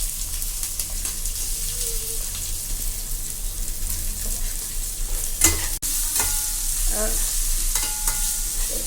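Onion sautéing in a pan with crushed ginger, garlic and green chilli for carrot biryani rice, a steady close sizzle with scraping stirs and a few sharp utensil clinks, no talking.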